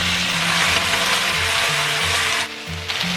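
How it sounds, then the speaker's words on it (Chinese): Marinated, starch-coated chicken sears in a little oil in a flat frying pan over medium-high heat, giving a steady, close, broadband sizzle with a low background hum and a brief dip near the end. "平底锅里面我们来少许油就好，然后把腌制好的鸡肉放上去，保持中大火煎。"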